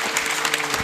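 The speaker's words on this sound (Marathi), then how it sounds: "भजनेचं स्वागत म्हणून टाळी वाजवा" Audience applause welcoming a bhajan during a Marathi kirtan gathering, a steady dense wash of many hands clapping together, fairly loud and continuous for under a second.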